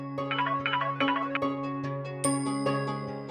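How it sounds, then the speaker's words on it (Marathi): A phone ringtone rings at a home in a Marathi TV drama, a steady melodic electronic tune with repeating chiming notes playing alone and close for several seconds. "शालिनी मॅडमचा फोन"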